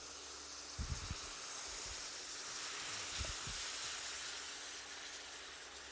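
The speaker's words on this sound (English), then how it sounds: "It's not smoke, just a little steam coming up." Steady hiss of steam rising from pork chops searing in a hot pan after a splash of lemon juice, continuous and fairly loud throughout with a few low thumps and knocks, no talking.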